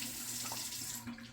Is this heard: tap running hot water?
yes